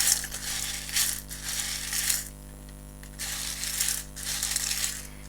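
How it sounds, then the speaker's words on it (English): Tarot deck being shuffled hard by hand, with bursts of riffling card noise that come and go in four or five waves and stop in brief pauses between them. It is close up, with no talking. "I'm just going to really shuffle these up."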